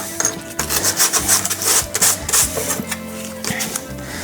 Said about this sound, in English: A bit of a rub over with some sandpaper.